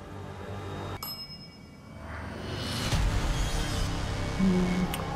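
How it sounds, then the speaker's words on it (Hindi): A single bell ding sounds sharply about one second in, during a paranormal session in a dark, eerie setting, followed by a lingering ring and a low, rumbling room hum. "अगर हाँ तो एक घंटी बजाइए।"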